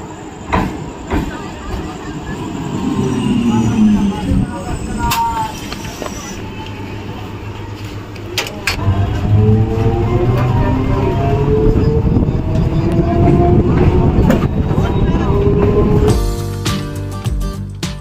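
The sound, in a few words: local train running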